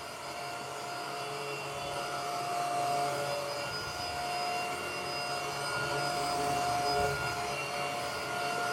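A Proscenic F20 wet-dry floor vacuum cleaner runs with a steady, loud motor whine and airy rush that holds level throughout, with no voices.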